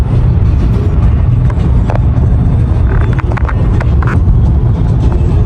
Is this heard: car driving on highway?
yes